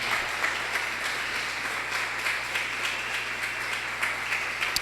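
A church congregation applauds in a steady, moderately distant wash of clapping with faint rhythmic accents, continuing evenly without speech over it.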